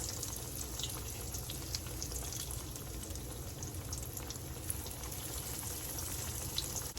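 Keto catfish strips fry in hot oil in a cast iron skillet, giving a steady, close, dense crackling sizzle that holds evenly throughout with no talk over it.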